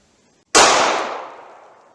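A single sharp gunshot from a 327 Federal Magnum LCR revolver with a 1.875 inch barrel, firing a 95 grain .32 H&R Magnum bullet, bursts loud and close after silence, then rings off in a long decaying echo.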